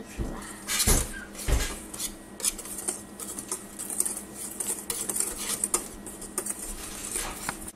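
Strawberry pancake batter is stirred in a bowl, with a utensil clinking and scraping against the sides in quiet, irregular bursts and a few sharper knocks.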